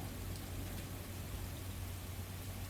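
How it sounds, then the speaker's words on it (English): Rain taps softly on a cabin roof at night, a faint, even hiss of drops over a low steady hum, continuous and quiet with no voices. "the rain tapping softly above"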